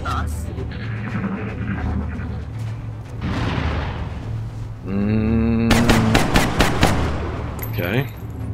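Bursts of automatic gunfire and weapon blasts from the turn-based strategy game XCOM Long War, loud game effects with booming impacts and rapid repeated shots, mixed with game music and a voice talking over it.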